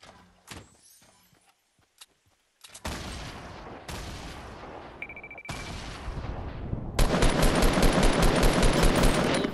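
Rapid machine-gun fire from a minigun in the video game Fortnite, opening with scattered shots and quiet gaps, then swelling into long, dense, loud automatic bursts that run continuously to the end.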